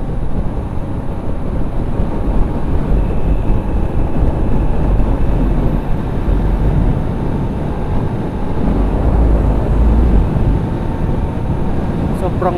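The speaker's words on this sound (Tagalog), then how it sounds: "Sobrang hangin!" Strong wind buffeting the microphone of a rider on a Kawasaki 135 motorcycle, a loud steady roar covering the whole stretch with low rumble underneath.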